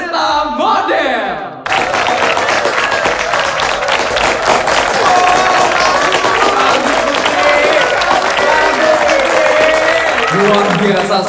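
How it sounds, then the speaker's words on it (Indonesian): After a brief stretch of talk, a festival crowd in Jakawarna breaks into loud, sustained applause for a student performer and her school group, the brisk clapping joined by scattered voices and cheers. "Beri tepuk tangan yang meriah untuk Putri Annabel dan Smanesta Model"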